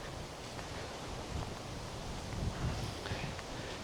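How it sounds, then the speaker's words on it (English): Strong wind roars through autumn trees as broadband rushing noise, with faint rustling and gusting, steady throughout. "As you can see, it's quite windy"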